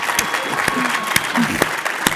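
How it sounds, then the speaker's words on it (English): An audience at a conference presentation claps in dense, steady applause, with a few sharper individual claps and a voice speaking briefly over the noise. "let's give Travis and Arlen a round of applause"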